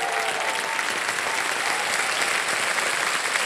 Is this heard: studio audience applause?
yes